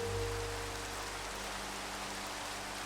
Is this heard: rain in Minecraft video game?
yes